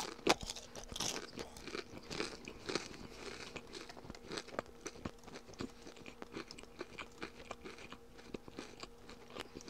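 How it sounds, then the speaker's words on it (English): Close, steady crunching and chewing of food by someone playing a game, with dense crisp bites and mouth noises repeating through the whole stretch, no talking. "I'm actually gonna be eating at the same time, so if you hear me chewing, I'm sorry."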